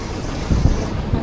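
Strong wind buffets the open deck of a passenger ferry at sea, a loud, continuous low roar with gusty rumbling pushing against the microphone.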